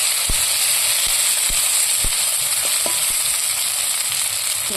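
Steady, dense sizzling of prawns frying in hot oil in a wok, with a few faint clinks and taps of a utensil against the pan.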